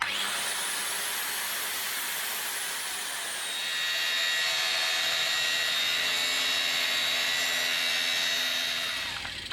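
A repaired angle grinder with a newly replaced lead spins up with a high, loud motor whine, then keeps running steadily on its own.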